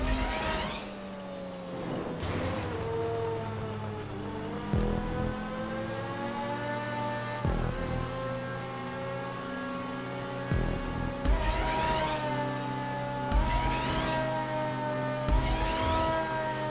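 Engine of a race car in a GTA 5 Online point-to-point stunt race, droning steadily with rising and falling revs, gear-shift dips and sweeping pitch changes over about seventeen seconds, loud and continuous with no talk.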